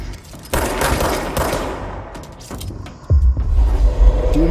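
Rapid gunfire in the video game Control, with loud bursts of automatic shots and sharp cracks, followed by a heavy rumbling impact near the end.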